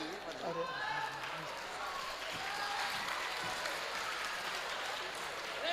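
Audience applause at a Bageshwar Dham comedy gathering rolls on as a dense, steady wash of clapping, fairly loud and sustained throughout, with voices faintly mixed in.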